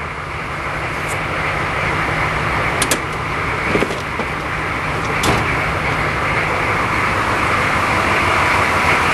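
The engine of a homemade floor sander running at fast idle, a steady loud mechanical drone with a few brief clicks and knocks, close by, and no speech.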